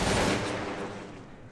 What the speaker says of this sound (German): In Feuerreichweite, dann schießen wir.